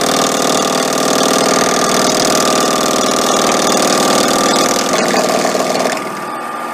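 Metal lathe cutting a workpiece held in a 4-jaw chuck, a steady mechanical whir with a tonal hum and grinding texture, loud and close, continuous, then dropping and easing off near the end.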